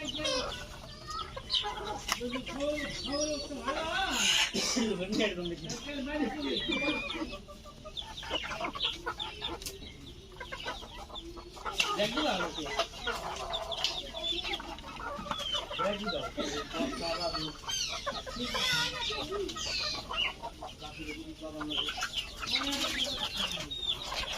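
Desi hens and roosters cluck and squawk steadily throughout, a busy flock with young chickens close by, overlapping calls and occasional louder cries.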